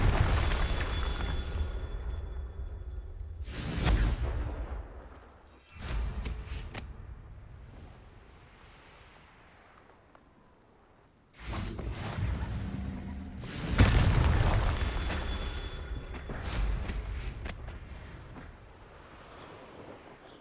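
Booming blasts from the Confringo spell in Hogwarts Legacy. Several deep explosive bursts roll out over rumbling background noise, with long gaps between them.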